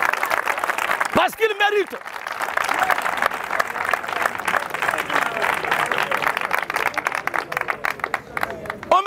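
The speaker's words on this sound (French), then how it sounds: "Je veux qu'on acclame le Seigneur Jésus-Christ" A French-speaking church congregation applauds and cheers in acclaim of Jesus Christ, a dense, steady wall of clapping and crowd noise running throughout, with a voice speaking briefly over it near the start.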